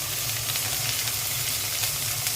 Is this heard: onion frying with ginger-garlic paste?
yes